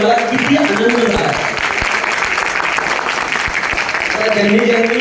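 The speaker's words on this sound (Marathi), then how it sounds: "जोरदार टाळ्या." An audience at a corporate event at HSBC in Pune claps in sustained, dense applause, loud and close, swelling at the start and end, with voices speaking over it.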